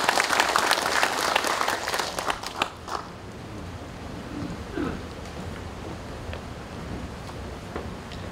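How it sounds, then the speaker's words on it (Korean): An audience at a national general assembly of retired police officers applauds the police commissioner, a dense burst of clapping that fades out after about three seconds, leaving a quiet hall with faint scattered sounds. "김창룡 경찰청장님 다시 한번 큰 박수 부탁드려요"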